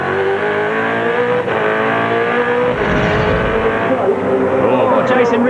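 V8 Supercar engine screaming past at the Clipsal 500 street race in Adelaide, a loud sustained roar with shifting pitch as the car accelerates by, with commentary over it.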